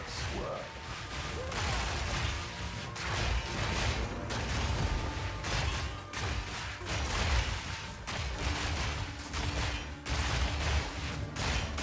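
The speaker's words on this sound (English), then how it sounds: "We actually have some explosions." Armor-break explosions in a fast action game, a dense run of crashing, popping blasts and whooshes repeating throughout, loud and busy with some background voice underneath.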